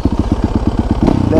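A YZ450 FX custom supermoto motorcycle engine revs in a rapid, even string of close, loud pulses, rising into a harder burst near the end.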